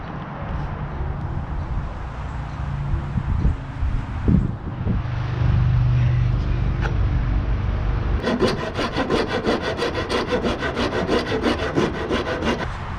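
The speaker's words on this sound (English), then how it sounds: "A couple hits with the rasp." A rasp working the wood of a flatbed trailer wall: rough scraping strokes at first, then a fast run of rhythmic, loud rasping passes near the microphone.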